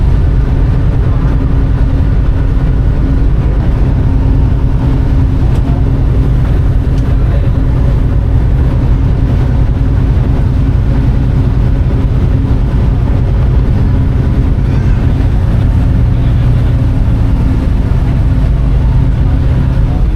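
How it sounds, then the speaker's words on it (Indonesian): Steady low engine drone of the Pelni passenger ship KM Kelimutu heading out through the Mentaya river mouth, a loud continuous rumble with no pauses and no talking. "Dan ini mesin kapalnya juga bunyi ya, bukan hanya tugboatnya saja yang bunyi, tapi mesin kapalnya bunyi."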